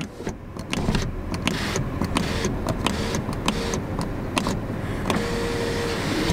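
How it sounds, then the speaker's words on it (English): A small electric sunroof motor on an older Mercedes-Benz CLS 550 whirs nearby in short stop-start runs, with clicks and ticks, then a longer steady hum near the end. "There's your sunroof. We'll see if it opens up."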